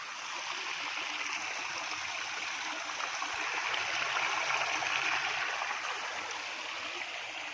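Steady rushing of flowing river water, a constant broadband wash with no breaks, moderately loud and close by.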